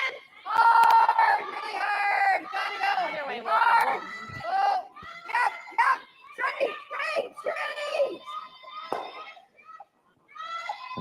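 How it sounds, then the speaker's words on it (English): Spectators at a curling event at the High Park Club in Toronto fill the air with lively chatter. Excited children's voices, shouts and brief laughter rise and fall close by. "Big crowd at the High Park Club."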